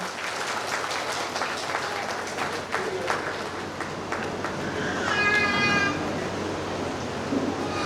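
Steady, dense applause fills the whole stretch, with a brief higher-pitched cry rising above the clapping partway through.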